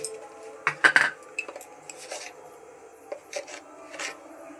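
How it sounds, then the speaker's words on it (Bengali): Grated potato with garlic and chopped chilli being mixed by hand or spoon in a bowl, giving close scraping, clinking and rubbing sounds in short irregular bursts, with no talking. "এবার এইটা আমি ভালো করে মিক্স করে নেব।"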